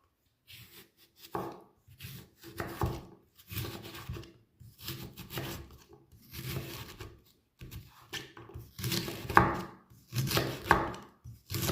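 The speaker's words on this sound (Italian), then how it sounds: "Facciamo delle fette spesse circa 4 mm" A knife slices fennel into thick slices on a cutting board, a series of distinct crunchy cuts and board taps in an irregular rhythm, close and fairly quiet with no talking.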